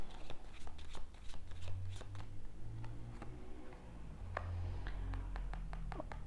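Tarot cards are shuffled before one is drawn, with repeated crisp riffling snaps and clicks in quick bursts, close and clear, with a low murmur underneath.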